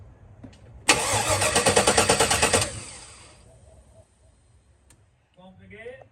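An LS-swapped car engine cranks and catches in a loud burst of about two seconds, its rapid firing pulses then fading into quieter sounds, with a person speaking briefly near the end.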